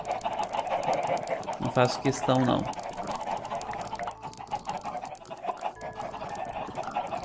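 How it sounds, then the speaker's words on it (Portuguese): Chickens in a Minecraft farm area cluck in a few short bursts near the start, followed by sparse faint clucks under a man's speech and background game ambience. "Deixa eu pegar aqui esses frangos."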